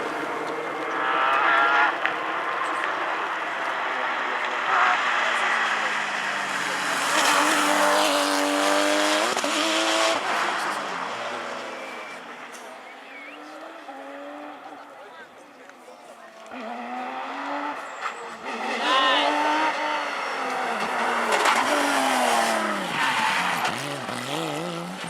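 A Porsche rally car at speed on a historic rally stage. Its loud engine rises and falls through gear changes across passes, with high revving, tyre squeal and crowd noise in the background, and no speech in the clip.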